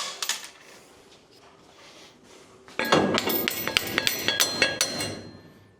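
A series of sharp metallic hammer strikes on a burred metal part of a Nova ring out in quick succession, loud and close, each with a bright clinking edge.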